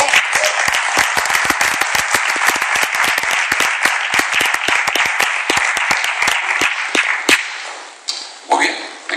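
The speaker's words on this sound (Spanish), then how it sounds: "Denle un fuerte aplauso al Señor." A church congregation gives loud, sustained applause during a service, a dense wash of many hands with sharp claps standing out; it thins and fades near the end, leaving brief murmurs.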